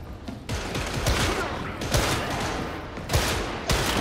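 Dense gunfire in Warhammer 40K: Darktide, loud and close, with rapid overlapping shots crackling through a continuous battle din and a few heavier blasts standing out.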